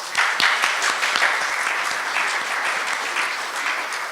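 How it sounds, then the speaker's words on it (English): Audience applause after a book reading conversation at the Embassy of India, a steady dense patter of many hands clapping throughout, fairly loud and close, with no voices over it. "join me in a big round of applause"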